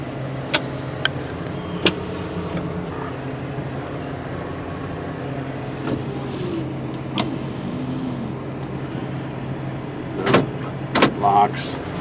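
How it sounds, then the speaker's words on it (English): Power windows on a 1985 Jeep Grand Wagoneer run as a steady motor whir under a low vehicle hum, with a few clicks and thumps near the end. "Windows all work."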